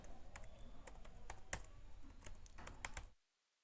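Rapid keyboard typing on a computer, a steady patter of close key clicks with a few louder strikes, while an HTML h1 tag is written, stopping abruptly near the end.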